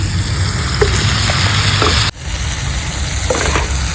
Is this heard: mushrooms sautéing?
yes